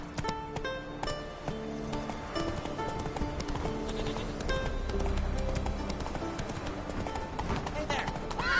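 Roach, the horse in The Witcher 3, gallops with a quick, continuous patter of hoofbeats, close and steady, beneath background music with a voice briefly in the mix.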